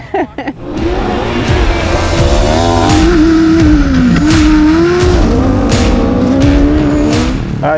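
SR1 class short course race cars at Great American Shortcourse in Victorville, California, loud and continuous engines revving and shifting close by, with rising and falling pitch as they race.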